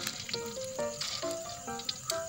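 Cilor, tapioca snack pieces dipped in egg, fry in hot oil with a faint, steady sizzle, with soft tonal clinks and pops rising briefly over the constant bubbling.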